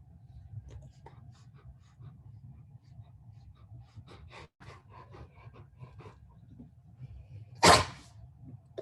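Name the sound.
sneeze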